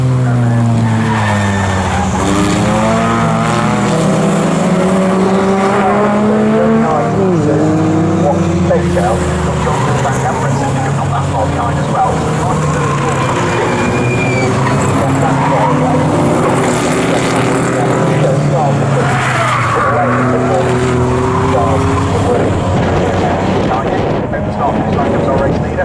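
Morgan race cars drive past at Snetterton circuit, heading down the Bentley straight toward the braking area. Engines rise and fall in pitch as cars approach and pass. A commentator speaks over the loud racing noise throughout.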